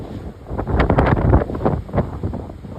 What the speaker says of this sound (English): Right now, it's very windy.